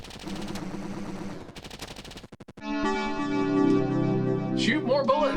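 Gunfire in the video game Approaching Infinity Survivors, rapid machine-gun-like clatters of synthetic shots followed by tonal electronic game effects and music, loud and close.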